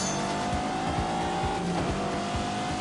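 A Bentley GT with 626 horsepower accelerates in The Grand Tour video game, a steady loud engine drone that climbs in pitch through rhythmic gear-like pulses, continuous and close with no talking.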